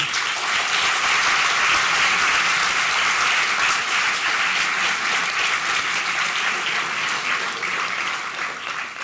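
A crowd applauds a speech by Anasse Kazib of Révolution Permanente at a French political gathering: dense, sustained clapping from many hands that fills the space and tapers slightly toward the end.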